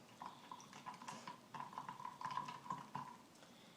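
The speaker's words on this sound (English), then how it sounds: "I'm just going to stir that up." Brown sugar is stirred into a turmeric and ginger bug ferment, a quiet spoon scraping and clinking against a jar in a steady, faint rhythm, with no voices.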